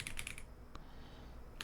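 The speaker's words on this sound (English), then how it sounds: "Typing?" Keys on a computer keyboard clatter in a quick burst of clicks, then a single tap after a pause, faint and close against a quiet room.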